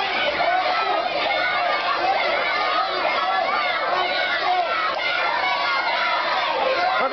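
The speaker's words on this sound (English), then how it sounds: "With the crowd calling him dumb, dummy, dummy." A wrestling crowd at a WBW Wrestling event chants and shouts in a dense, continuous roar of many voices, loud and unbroken throughout, with no single speaker standing out.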